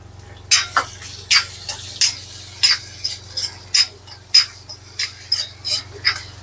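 Onion sautéed and stirred in a pan for a mung bean curry, with repeated spoon scrapes and clinks against the metal in a steady rhythm over a faint background hum, close by and moderately loud.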